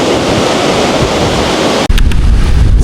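Wind and ocean waves at a busy beach, loud continuous surf roar with heavy wind buffeting the microphone and a sudden shift in tone near the end.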